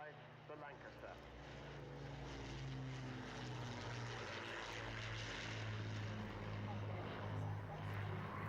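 Avro Lancaster four-engine propeller bomber droning past, a low rumbling multi-engine hum that swells gradually and stays steady throughout, heard at a distance with faint voices underneath.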